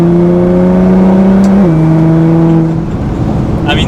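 A stage 3 full bolt-on Nissan GT-R drives through turns, its engine giving a steady, loud, close drone that drops in pitch at a gear change partway through, then settles into a rougher rumble.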